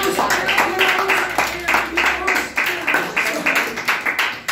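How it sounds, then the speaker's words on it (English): A room full of people claps for a storyteller at a storytelling competition, a brisk, fairly close run of hand claps lasting several seconds with voices mixed in. "So we had a clap for Anshika."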